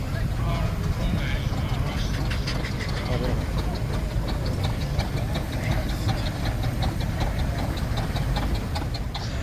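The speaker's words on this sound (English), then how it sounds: "this is the steam engines, steam traction engines, and their own ring here" Steam traction engine running in the display ring at a steam rally, with a low rhythmic chuffing and mechanical ticking beneath crowd murmur and voices, continuous and fairly close.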